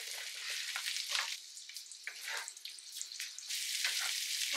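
Brussels sprouts fry in a hot pan, a bright sizzle with crackling bursts and scraping stirs that stays moderately loud throughout, with no talk.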